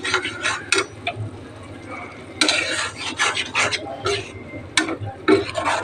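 Green peas are tipped into a pan and stirred while making a vegetarian paneer dish: rough scraping strokes and bursts of rattling against the metal come in uneven clusters, close and fairly loud, with light sizzling underneath.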